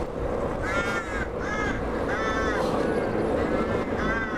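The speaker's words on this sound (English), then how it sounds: "Look at these crows up here." Several crows caw loudly in a steady, repeating rhythm over constant outdoor background noise.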